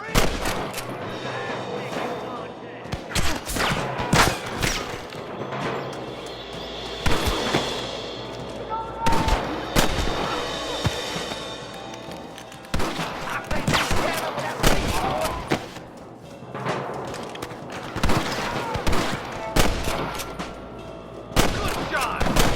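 Gunfire rings out in a Red Dead Redemption shootout with sheriffs, with repeated sharp shots in irregular bursts, some near and loud, others scattered, while voices talk over parts of the exchange.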